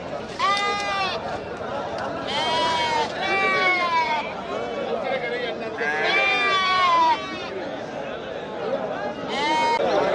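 Goats bleating at the busy Melapalayam goat market, repeated loud, wavering bleats from several animals in bursts over continuous crowd chatter and talking nearby.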